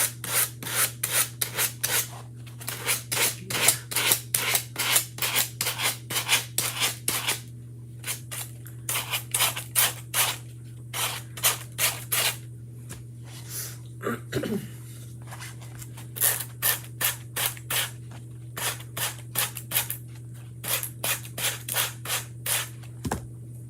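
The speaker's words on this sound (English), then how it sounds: "Let's see if we can sand this off at least." An old sanding block rubs over a still-warm object in quick bursts of short rasping strokes, close and fairly loud, broken by brief pauses, with a steady low hum underneath.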